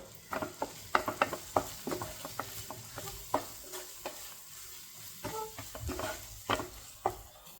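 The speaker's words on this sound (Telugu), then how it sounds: "ఇలాగ ఉప్పు కారం అన్ని ఫ్రై అయిపోయాక" Salt and chili powder masala fries in a pan for a drumstick masala gravy, a soft sizzle broken by frequent close stirring scrapes and taps of a spoon against the pan.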